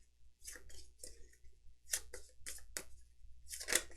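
Deck of cards for the Tainted Grail board game being shuffled, close and quiet, with a run of crisp riffling bursts and short flicks in an uneven rhythm.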